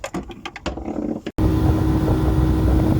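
A speedboat ride on the Golden Horn, heard as a loud steady engine roar with rushing water and wind, starting abruptly after a short stretch of clattering handling noise.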